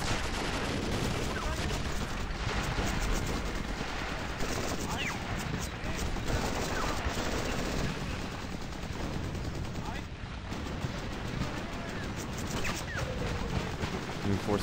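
Dense battlefield gunfire and explosions from the World War II strategy game Men of War: Assault Squad 2, set at South Peleliu Airfield: near-continuous rattling bursts and booms fill the whole stretch at steady loudness.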